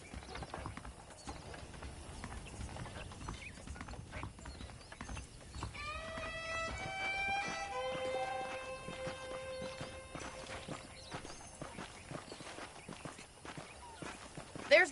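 Saddled horses in the Red Dead Redemption video game clip-clop steadily at a walk, hoofbeats continuing under character dialogue, with a horse's whinny rising briefly midway.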